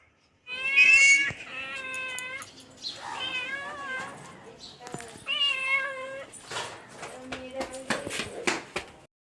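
A cat repeatedly meows at close range in a series of drawn-out, insistent calls, with a faint voice now and then between the cries.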